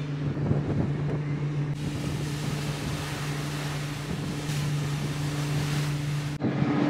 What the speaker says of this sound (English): Off on the ferry we go.